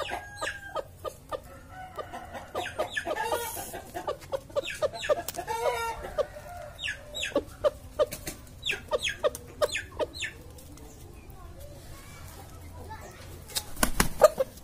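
Roosters and hens on a Ponorogo poultry farm cluck and crow at a moderate distance under steady talk, with wing flaps and a louder burst near the end.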